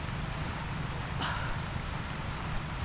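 Heavy rain drums steadily on a small fishing boat out on the water, a loud, dense hiss that never lets up, with faint wind mixed in.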